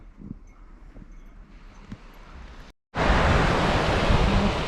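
Sea waves wash onto the shore of an Arctic strait at Teriberka on the Kola Peninsula in winter. A soft surf rumble is followed by a brief cut, then a loud, continuous, windy roar of breaking water.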